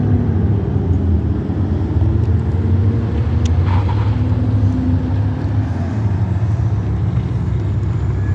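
Cars pass steadily through a busy city intersection, with a continuous loud roar of engines and tires and no gaps between vehicles.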